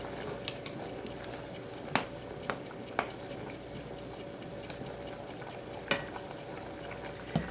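Glazed carrots boiling hard in a covered pot on the stove, a steady bubbling hiss with a few sharper pops and clicks standing out now and then, close and moderately loud, with no one talking.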